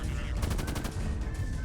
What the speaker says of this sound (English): We now have a machine gun going.